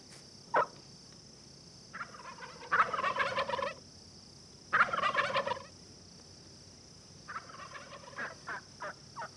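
A wild turkey in hardwood forest habitat gives several bursts of rapid rattling gobbles, fairly close and clear, separated by short quiet gaps, with a faint steady high background hiss.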